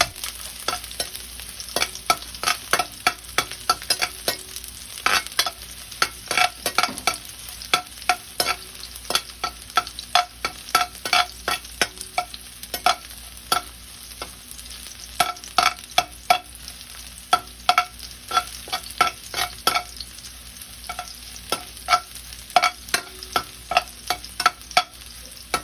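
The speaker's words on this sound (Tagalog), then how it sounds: "At igisa natin ang bawang hanggang sa bahagyang pumula." Garlic sautéing in a pan for a squid dish, a steady soft sizzle broken by frequent sharp scrapes and clicks of a spatula stirring against the pan, close and fairly loud, with no talking.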